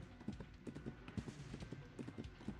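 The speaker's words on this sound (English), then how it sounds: "The horse runs onward still" Horse hooves gallop onward in the game Reverse 1999, a quick uneven clip-clop rhythm of thudding strikes, fairly faint and steady for a few seconds with no speech.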